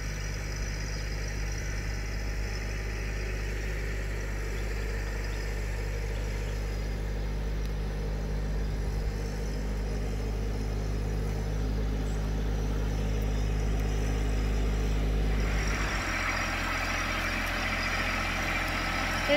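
A tractor engine runs steadily with a deep, continuous idling rumble, shifting slightly in tone near the end.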